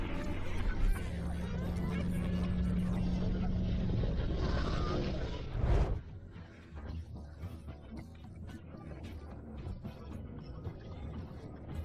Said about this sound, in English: an Apache helicopter flew by, so close it felt like a private air show